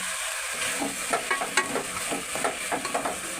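Ground masala paste sizzles and fries in oil with vegetables for palak pulao, a steady close crackle broken by soft stirring scrapes at a loose rhythm, with no voices.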